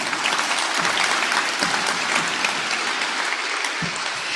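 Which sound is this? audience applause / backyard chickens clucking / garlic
audience applause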